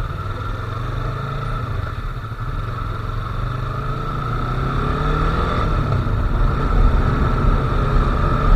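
Yamaha R3 motorcycle with a parallel twin engine rumbles at a steady, low idle close by, its drone rising slightly toward the end, with a brief voice at the start.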